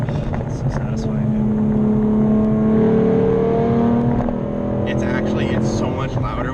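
A Roush RS Mustang V6 engine revs loudly up and down in steady sweeps, then settles into a rough idle, while people talk over it.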